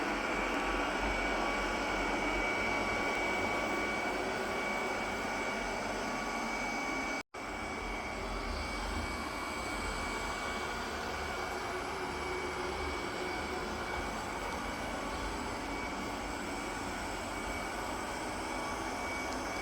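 A ROPVACNIC robot vacuum mop runs with a steady, even whir and hum, a fairly loud continuous broadband drone that holds throughout apart from one brief dropout, with no talking.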